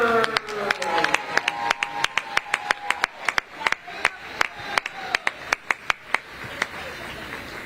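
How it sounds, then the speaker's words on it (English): At a college swim meet, a small crowd on deck claps rhythmically for a senior swimmer, sharp distinct claps in a steady beat with a voice speaking over the start. "a round of applause for the Tiger Senior"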